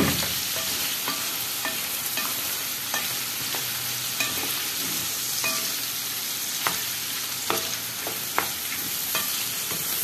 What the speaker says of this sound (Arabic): هي الكبده بس هتاخد تحميره معايا.